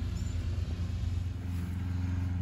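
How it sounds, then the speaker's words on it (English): A low, steady motor drone hums in the distance, like a lawn mower running somewhere nearby, with no voices. "And the sounds of summer mowing."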